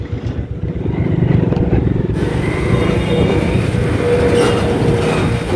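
A train passes through the Ashoknagar railway level crossing, a loud, steady rumbling roar that holds close and continuous throughout with no talk.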